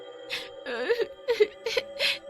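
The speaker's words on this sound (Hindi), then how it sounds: "तभी उन दोनों को एक छोटी बच्ची के रोने की आवाज आती है" A little girl cries in a horror story scene, giving several short wailing sobs in a broken rhythm, close and moderately loud, with no talking.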